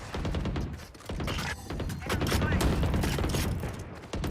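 Rapid bursts of video game gunfire crackle and thump in a dense, continuous barrage, with people talking faintly underneath.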